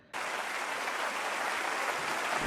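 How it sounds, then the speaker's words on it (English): Dense, even applause from many hands in an anime scene, starting abruptly and holding at a steady loud level without any voices. "the sound of the clapping"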